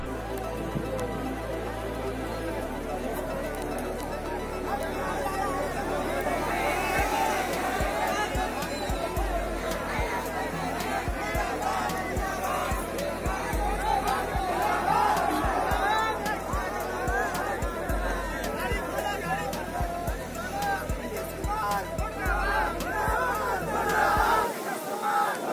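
A large crowd gathered at Bandra railway station during a coronavirus lockdown, with a continuous roar of many voices, shouting and babble, and scattered sharp knocks and claps throughout.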